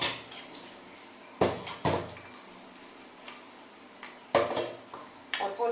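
Dishes, pots and utensils being washed nearby, with several sharp clinks and clatters of metal and crockery spaced irregularly over faint running background noise.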